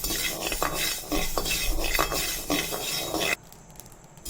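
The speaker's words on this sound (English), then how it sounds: "We have to fry these mustard seeds and fenugreek seeds." Mustard and fenugreek seeds, about two teaspoons each, frying and being stirred in a pan, with a steady crackling sizzle and repeated scraping strokes of a utensil, ending abruptly in near quiet.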